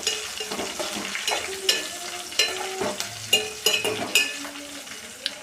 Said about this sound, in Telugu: ఇట్లా బాగా వేయించుకోవాలి పచ్చిమిర్చి